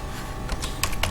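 Keystrokes on a computer keyboard as a command is typed into a command prompt, a few quick clicks clustered near the end over a steady low hum, fairly close and moderately loud.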